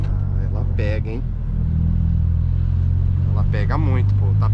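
A Fiat Strada pickup engine on 205 tyres rumbles and strains under acceleration, steady and close, with people talking over it in Portuguese.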